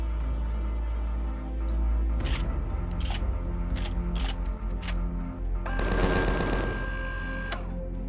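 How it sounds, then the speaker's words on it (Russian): Gatling machine gun turret in Empyrion – Galactic Survival, an engine hum beneath bursts of rapid mechanical firing, ending in a loud sustained rattling burst with a steady tonal whine, close and without speech. "Пулеметы Гатлинга. Пулеметная турель,"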